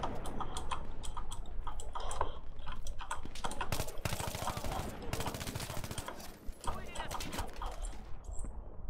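Battlefield 3 gunfire comes in rapid bursts of automatic shots, dense clusters of sharp cracks with a heavy sustained volley midway, while players talk over the shooting.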